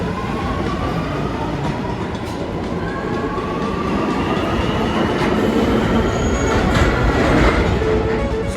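A newer New York City subway train on the C line rumbles underground toward High Street in Brooklyn, a loud, continuous roar of wheels on track with faint squealing, heard from inside the car without talk.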